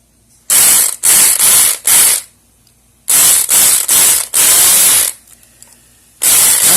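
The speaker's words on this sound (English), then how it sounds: "Adjust my picking range so that I rattle the hell out of it, beat it to death, literally" A Brinks Promax security padlock is picked and rattled hard, loud bursts of rapid metallic raking in groups of about a second each, separated by short quiet gaps, close up with no talk.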